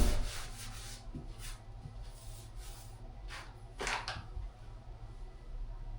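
Cheap Dollar General wipes rub and scrub softly across a surface during a silicone caulking job, with faint, irregular swishing strokes close by and no talk.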